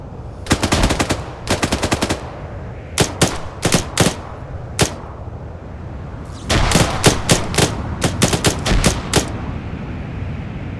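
Rapid bursts of automatic gunfire from the Stargate ArmA video game, loud and close, in several clusters of sharp repeated shots separated by short pauses, with a quieter gap before a longer final volley.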